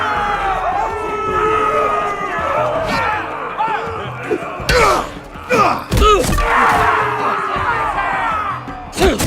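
Arena crowd roars and cheers in a Game of Thrones Telltale game scene, loud and continuous with sharp thuds and slams cutting through, while a voice talks over the noise.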